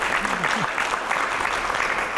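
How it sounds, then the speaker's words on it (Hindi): Loud applause from a studio audience on a televised Hindi talk show, a dense, sustained clatter of clapping that fills the whole short stretch at close, even level. "पहले जोरदार तालियां हो जाए।"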